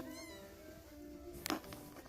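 A Siamese kitten gives a brief sharp meow in a kitten area, mid-distance, over a faint tonal hum.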